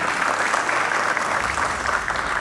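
Steady applause from a crowd at an award ceremony for educators in Panama, dense and continuous clapping throughout with no pauses.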